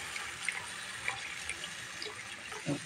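Water poured into a pan of cooked-down spice paste for a tilapia fish bhuna, a soft continuous trickle and splash that is fairly quiet and ends in a brief louder burst.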